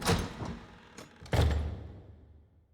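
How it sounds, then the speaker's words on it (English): Front door sound effect from the visual novel Witch on the Holy Night: a loud, close thump of a mansion door opening, followed by a second heavy closing thud that rings out and decays, with no voices. "I re-entered the house from the front door."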